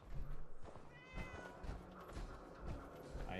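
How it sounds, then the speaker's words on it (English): Cat meowing in the video game Fallout 4, a few mewing calls over dense game ambience and thumps, moderately close with no talking. "I hear a kitty."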